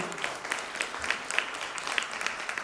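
An audience applauds to welcome a speaker at a conference fireside chat, the clapping fairly light and sparse, with distinct individual claps standing out over a soft background.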